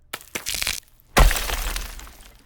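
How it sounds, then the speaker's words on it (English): Layered glass and ice crackling effect built for the Legends of Runeterra card game: a few light glassy ticks, then a loud shattering crash that crackles and fades over a second or so. "So those are pretty much my glass layers."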